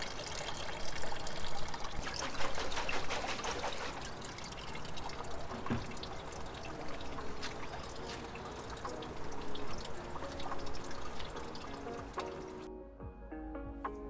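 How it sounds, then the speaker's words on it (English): Residual fuel from an old Honda CB750 chopper trickles steadily into a bucket, a close, continuous liquid dribble that runs without a break before cutting off abruptly near the end. "The residual stuff kind of dripped into the tank here, or into the bucket, so it can just evaporate over time."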